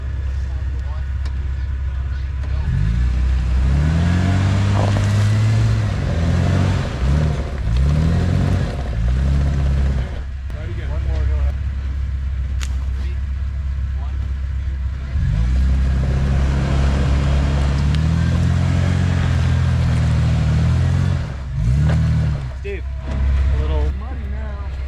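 An overlanding rig plows into a rutted mud hole on a Vermont trail, its engine revving loudly and close in two long surging bursts that rise and fall.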